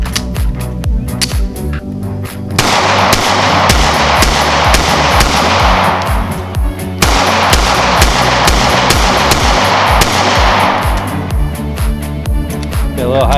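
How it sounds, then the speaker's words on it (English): Rapid strings of sharp, loud pistol shots from a Springfield Armory Hellcat, fired close up at an outdoor range in two long runs of quick successive reports with a brief gap between them, and echoing decay after each crack. "So I'm going to load up some more. We'll shoot it again."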